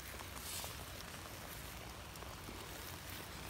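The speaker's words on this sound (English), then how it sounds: "Guys, it's starting to rain." Rain begins falling outdoors at a privy dig site, a faint, steady hiss of drops on soil and surfaces that continues evenly throughout with no voices.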